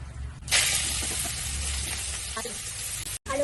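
Potatoes drop into hot oil in a wok and burst into a loud sizzle. The hiss keeps going steadily, with a few faint clinks, before it briefly cuts out.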